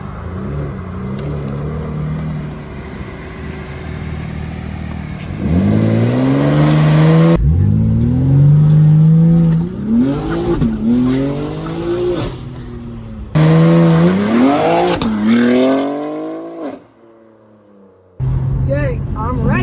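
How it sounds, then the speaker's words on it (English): A G80 BMW M4 Competition revving hard in a brake-boost launch, engine climbing in loud repeated surges with rising pitch through gear changes, up close inside the car, with a voice speaking over it. "I'm just gonna do a quick brake boost."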